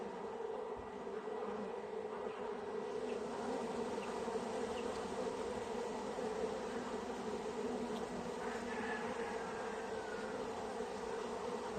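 Honey bees hum and buzz steadily around a hive, a continuous low droning swarm with individual bees passing close now and then.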